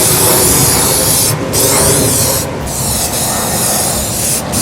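A spray can sprays clear coat in loud continuous hissing bursts, close by, with three brief pauses between passes.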